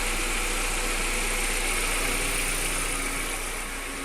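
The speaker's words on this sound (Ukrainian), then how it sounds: "Але двигун є такий, як то якісь пропуски в запаленні десь" An Audi A4 B5 with a 1.6 petrol engine idles with ignition misfires, giving a steady, close mechanical hum with a broad hiss that eases slightly toward the end, with no talk.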